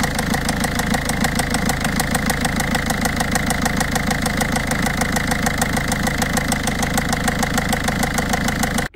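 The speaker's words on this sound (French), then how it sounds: "je peux peut-être vous mettre un morceau de son du bruit qu'elle fait là" A car engine with a slack timing chain idles close up, a loud, steady running drone overlaid by a fast, regular rattling tick that continues evenly for about nine seconds before cutting off.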